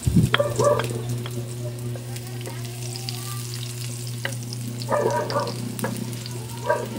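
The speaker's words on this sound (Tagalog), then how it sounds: "Ilagay natin ang ating oil. Ngayon, igisa na natin ang ating bawang." Garlic sautés in hot oil in a wok for chicken asado, giving a steady, close sizzle over a low hum. A few light clinks of stirring break in now and then.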